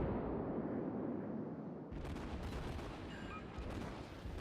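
The guns of the cruiser St. Louis fire at a battleship in a naval battle game, a dense barrage of shots heard at a distance, with a steady roar that turns into a rapid series of sharp reports.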